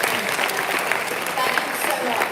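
Audience applause at a JP Knapp school graduation ceremony in 2022: dense, steady clapping from a crowd fills the room continuously, loud and near, with no break.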